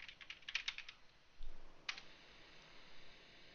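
Quick keystrokes on a computer keyboard while renaming a bookmark, a short burst of soft clicks followed by a single later tap, faint and close in a quiet room.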